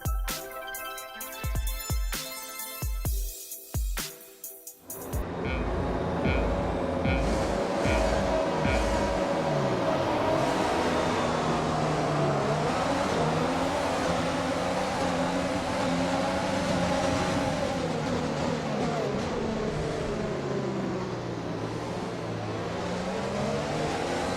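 Formula 1 cars launch off the grid at Spa-Francorchamps in the F1 2020 racing game, a short revving build-up giving way to a loud, continuous roar of many engines accelerating and shifting through gears.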